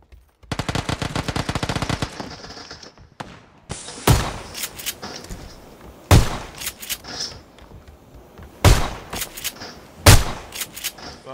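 Gunfire in PUBG: a rapid automatic burst of evenly spaced shots for about two seconds, then single loud, sharp reports spaced a couple of seconds apart, close and punchy, with no talking.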